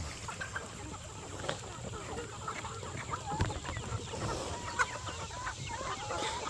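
Chickens cluck softly at a distance over a quiet outdoor background, with a few scattered louder clucks.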